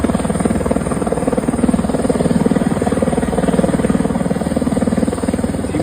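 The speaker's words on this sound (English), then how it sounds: "Here's a helicopter crew rescuing a woman who's trapped during floods." A rescue helicopter hovers during floods in Texas, its rotor thumping in a steady, loud, rapid chop with engine whine throughout and no talking.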